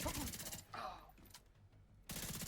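Rapid gunfire from The Division 2 shooter game bursts loudly at the start and again at the end, with a quieter gap of game noise between the volleys.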